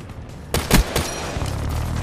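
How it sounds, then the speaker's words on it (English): Automatic sentry gun fire in Call of Duty Black Ops 3: a short burst of loud, close gunshots with several sharp cracks in quick succession, then a lingering rumbling battlefield backdrop. "That was the sentry gun."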